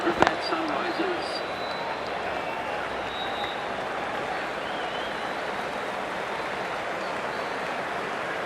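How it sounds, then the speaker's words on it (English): Steady crowd buzz filling a cricket stadium in the Cricket 2024 video game, a dense continuous roar after a brief sharp knock at the start, with no clear individual voices. "There's a buzz, a real buzz coming from the stands."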